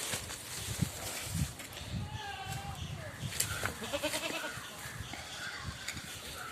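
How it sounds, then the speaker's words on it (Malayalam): Goats bleat a few times at a livestock sale, wavering calls close by, while people talk over them. "വളർത്തുകാർക്കൊക്കെ പറ്റിയ നല്ലൊരു ആട്"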